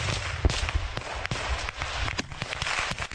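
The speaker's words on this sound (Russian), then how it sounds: "стреляет из подствольного гранатомета" An underbarrel grenade launcher firing in combat amid other shots, a rapid series of sharp cracks and thuds over a constant noisy background, with no talk.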